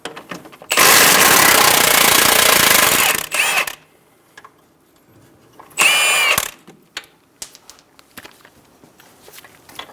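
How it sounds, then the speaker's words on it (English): A power tool, likely an impact wrench, zips off the 19mm strut nut on a 2010-2014 Subaru Outback front strut in two loud close bursts, the first about two seconds long and the second shorter, with scattered tool clinks between them. "We're going to remove the nut."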